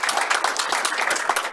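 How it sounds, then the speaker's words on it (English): An audience at a city council meeting bursts into applause, dense steady clapping from many hands, close and fairly loud for a brief stretch. "I think we need to give her a round of applause"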